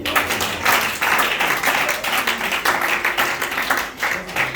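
A church congregation claps together in acclamation of the Lord, a dense, steady wash of many hands at close range, continuous and fairly loud throughout with no speech over it.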